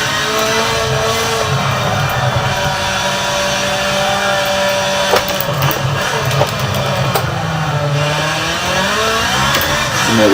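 A Ferrari race car engine accelerates in a racing video game set at Long Beach, a loud continuous high-revving whine with rising and falling pitch as gears change, no voices.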